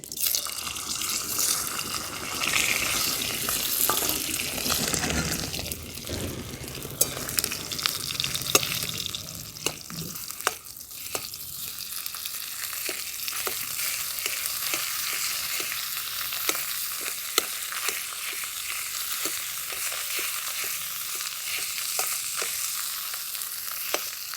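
Boiled potatoes sizzle and fry in a pan while a utensil scrapes and stirs them, with occasional clicks and taps throughout, no voices.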